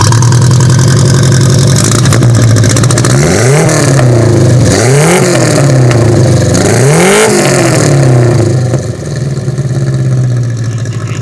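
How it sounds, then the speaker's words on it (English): A loud, close engine of an old, rusty Toyota van idles roughly, then revs up three times in rising surges before settling back to a steady idle. "so let's start her up"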